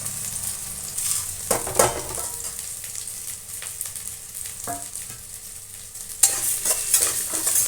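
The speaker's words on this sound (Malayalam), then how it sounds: "നമുക്കത് നന്നായി മൂത്ത് വരണം" Black pepper, fennel, cumin and coriander roast in a pan, with a soft dry sizzle under repeated scraping stirs. A louder clatter of the spoon against the pan comes near the end.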